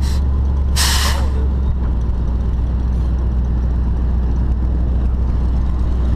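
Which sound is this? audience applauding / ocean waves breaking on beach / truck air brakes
truck air brakes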